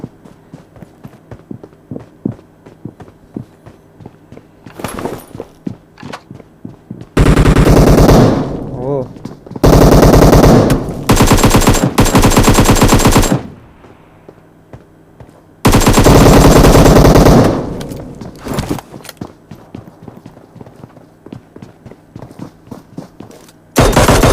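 Loud automatic gunfire from the battle royale game PUBG rattles in long sustained bursts, with quieter stretches of footsteps and small clicks between volleys.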